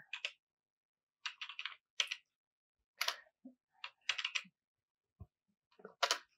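Bursts of computer-keyboard typing while writing Java GUI code with a mouse motion listener: clusters of quick, close key clicks separated by short pauses, no talking.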